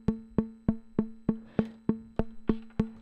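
A Eurorack synth voice through a low pass gate, struck by the pulse output of a Buchla-style Tip Top Audio 281t function generator: ten evenly spaced plucky, woody pings at a steady pulse, each decaying quickly, quiet and isolated.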